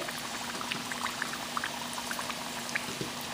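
Moong dal kachoris frying in hot oil: a steady, even bubbling sizzle with scattered small pops and crackles throughout, close and continuous, with no talking.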